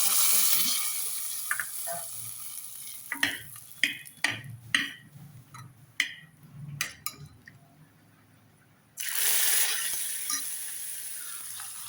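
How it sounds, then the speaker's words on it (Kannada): Sizzling tempering with curry leaves is poured into a ridge gourd sambar. Crackling sizzle bursts open and close the moment, with sharp clinks and taps of metal utensils in between. "ಒಗ್ಗರಣೆನ ಸಾಂಬಾರು ಹಾಕ್ತಾ ಇದ್ದೀನಿ"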